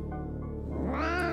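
A cat in a horror video game gives a single drawn-out meow, starting low and rising into a brighter, strained cry over about a second, close and clear with no talk.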